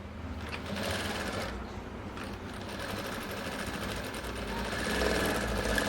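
A sewing machine runs steadily while stitching a straight seam on skirt fabric, a continuous close rapid mechanical chatter with slight swells in speed.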